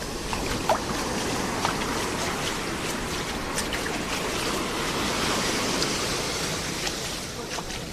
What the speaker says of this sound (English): And the waves do make it all the way up there.